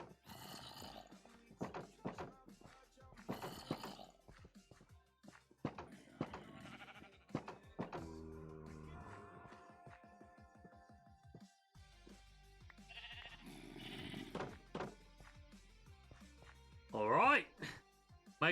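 Sheep bleat in the Minecraft video game, short repeated bleats scattered through the clip alongside game sounds and a person talking.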